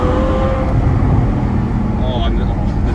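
A Ferrari F12 Berlinetta with a hydraulic steering rack drives along, its steady engine and road rumble continuous and close throughout, while a voice talks over it.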